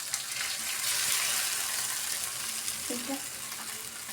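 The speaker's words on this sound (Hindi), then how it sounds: "अब इसको हम इस तरह कढ़ी में डालेंगे" A mixture pours into a pot of kadhi with fried pakoras during home cooking, giving a steady, loud sizzling hiss throughout, and a person briefly speaks over it.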